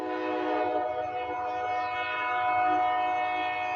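CSX freight train C040 passes at speed, its horn sounding as a steady, loud chord over the low rumble of the moving cars.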